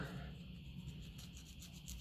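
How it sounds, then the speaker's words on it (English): Steady abrasive rubbing of a worn sanding disc spinning on a drill against metal, a continuous gritty whir with no speech. "These old sanding discs are awful handy. They've worn out on the drill."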